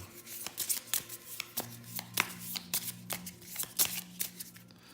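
Prelude cards for the Terraforming Mars board game being shuffled by hand, a run of crisp riffling snaps and papery flicks in quick uneven bursts, close and fairly quiet, with no talking.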